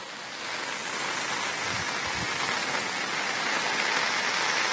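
Heavy rain pours continuously over flooded ground at Triveni Sangam in Kodagu, Karnataka, a dense, loud and unbroken hiss that builds slightly and stays constant.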